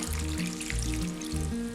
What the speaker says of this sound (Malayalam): കുറച്ച് വെള്ളം ഒഴിക്കാം.